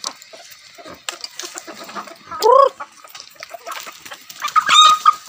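Backyard chickens on a small farm cluck in short, scattered bursts at close range, rising into a couple of louder, drawn-out squawks, with no voices.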